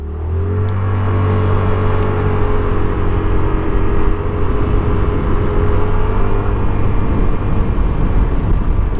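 An FKM MTX 180 motorcycle accelerates steadily to about 60 on a test ride, its loud, close engine holding a sustained drone with rising tone under heavy wind rush, and no pauses.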